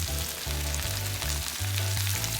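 Mushrooms, bell pepper and onion stir-fried with garlic and tofu give off a dense, continuous close-up sizzle over a low steady hum.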